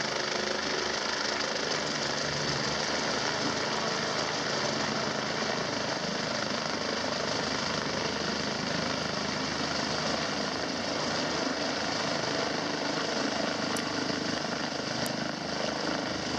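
Rescue helicopter hovering while a crew member works on the winch wire, a loud, steady rotor and engine roar that fills the whole stretch without letup and with no talking.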